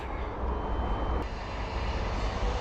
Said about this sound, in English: Just watching the drone get up.